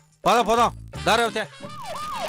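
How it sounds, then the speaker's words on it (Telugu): An ambulance siren wails in rising and falling sweeps, loud at first and then a softer, steadier sweep, with a few spoken words over it. "ఎక్కడో అంబులెన్స్ సౌండ్ వినిపించింది"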